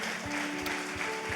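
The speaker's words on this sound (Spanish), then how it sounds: "Le damos un fuerte aplauso al Señor." Brief burst of sustained clapping from a church congregation, dense and even, with a low musical drone and rhythmic low thumps beneath.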